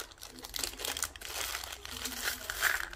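A small pouch full of charms is rustled and handled up close, giving a steady crinkling, rattling texture with a few brighter clinks near the end.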